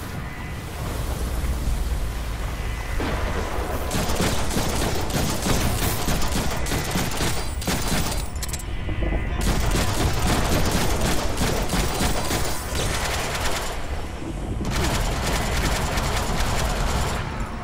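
Gunfire from a weapon in the Deadpool video game: dense, rapid, continuous volleys that stay loud and close, with only brief pauses between long bursts.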